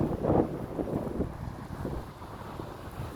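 Wind buffets the microphone in low rumbling gusts at the edge of a natural pond, steady and close, with a faint watery wash of small waves behind it and no voices.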